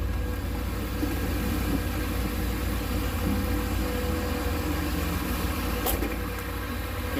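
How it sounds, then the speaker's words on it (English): A turbocharged LS V8 car engine idling with a steady, low rumble continuously, with no talking; a brief faint click near the end. "Again, guys, here's your engine."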